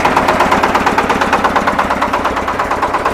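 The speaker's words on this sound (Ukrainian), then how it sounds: "Коробка вмикається досить плавно, вмикаю першу передачу." A Shifeng 240B tractor with an updated design, running in first gear in the low range: a loud, close diesel putter with a fast, even pulsing beat throughout, no voices.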